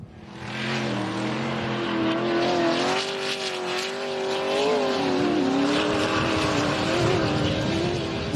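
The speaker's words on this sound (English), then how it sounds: "So that's that Tatum, the 7-litre Tatum that we can hear through the stream now." A 7-litre Tatum race car roars past at a river dash event, a loud sustained engine drone with rising and falling pitch as it passes close by, no talk over it.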